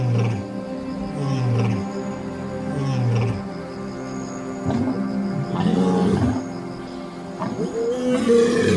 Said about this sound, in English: A male lion's roar reaches an intensity of 114 decibels, equivalent to a close crack of thunder.